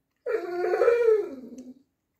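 A greyhound lets out a single drawn-out moaning howl, rising then sliding down in pitch for about a second and a half, close and clear with nothing else around it, while begging for a tasty treat.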